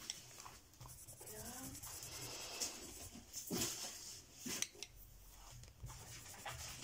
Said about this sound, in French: Et on va colorier un petit peu.